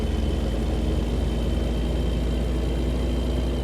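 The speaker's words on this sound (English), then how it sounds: "I believe this is the Kenworth W900. It's been a long time since I've driven this truck." Kenworth W900 truck idling in American Truck Simulator, a steady deep diesel rumble with a low throbbing pulse that holds even and unbroken throughout.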